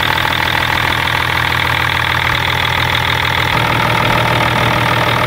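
The engine of a BMW 5 Series E39 idles steadily while warming up, giving a loud, close, continuous hum with a constant mechanical drone and no talking over it.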